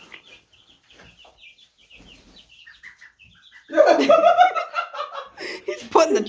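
A mixed flock of farm birds, including a turkey, a duck and chickens, starts with faint scattered calls, then breaks into loud, close clucking and squawking, with people talking and laughing nearby.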